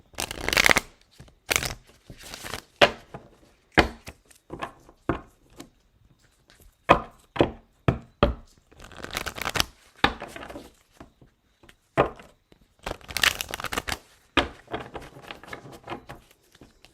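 A deck of tarot cards is shuffled by hand in a quiet room, giving irregular bursts of crisp riffling and slapping card sounds across the whole stretch, some quick taps and longer riffles, close and clear with no talking.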